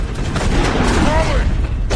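Burst of gunfire in The Wolf Among Us, a dense rattling volley with booming low thuds, loud and continuous across the moment, with a voice talking over it.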